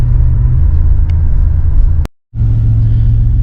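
A Buick Grand National engine idles steadily in a shop, a loud continuous low rumble that cuts out briefly for a moment before resuming at the same level.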